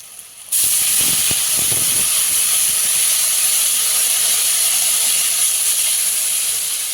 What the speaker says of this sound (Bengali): মশলাটা কষানো হয়ে গেছে পেঁপের সাথে এবার জল দিয়ে দেবো পরিমাণ মতো জল দেবো